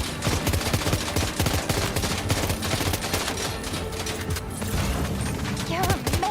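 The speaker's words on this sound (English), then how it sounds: "Keep firing." Dense, continuous gunfire in the video game Death Stranding 2, rapid machine-gun bursts and shots layered together with mechanical clatter, loud and close, with voices under the barrage.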